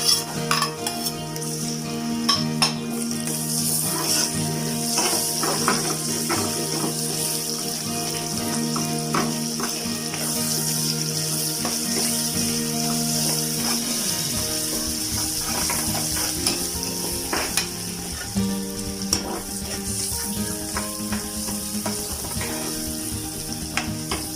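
Onion sautés in butter with garlic, a steady, loud sizzle and crackle running throughout, with occasional scrapes and clinks of a utensil stirring the pan.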